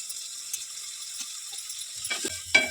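Vegetables with grated coconut and fresh coriander frying and being stirred in a pan for a vegetable palav: steady close sizzle throughout, with a few scraping stirs and knocks near the end.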